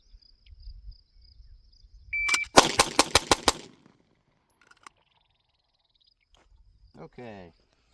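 A rapid string of about six pistol shots fired at speed after a draw from the holster, sharp loud cracks in quick even succession, followed by quiet and faint handling noises.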